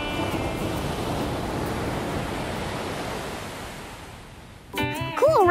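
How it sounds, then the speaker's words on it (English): Soft, steady ocean-like whoosh heard from a seashell held to the ear, a continuous rushing hiss that fades before a bright cartoon musical jingle cuts in at the end. "When I put it up to my ear, I can hear the ocean."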